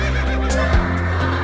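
A horse neighing, one short whinny rising over a steady low hum, loud and close within a brief moment.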